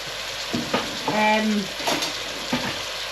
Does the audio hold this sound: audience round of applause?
no